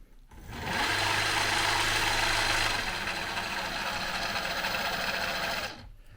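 A salvaged Hangkai electric outboard boat motor spins up and runs at a steady high whine with strong airy broadband noise, then cuts off after about five seconds.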